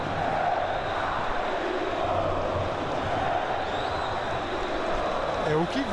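A large football stadium crowd of Atlético Mineiro (Galo) fans at a Libertadores semifinal against Newell's Old Boys during a penalty shootout, a steady distant roar with murmuring swells, under a commentator's voice.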